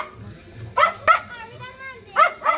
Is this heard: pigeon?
no